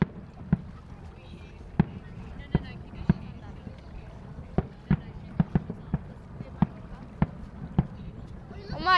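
Australia Day fireworks over Perth burst as a string of sharp, separate bangs spaced a second or so apart, echoing at a distance while people chatter nearby.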